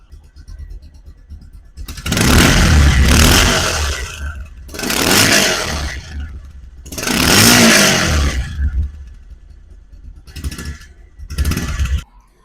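A second-hand 2020 motorcycle's engine running in loud bursts of revving, three long blips followed by two shorter ones, close to the microphone with brief idle gaps between.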